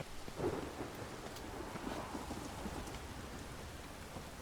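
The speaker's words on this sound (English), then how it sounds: "It's a shame it's the night and a terrible storm." Night thunderstorm in the video game Witcher 3, steady rain hissing over soft low rumbles of thunder, with a few faint cracks, alone and fairly quiet.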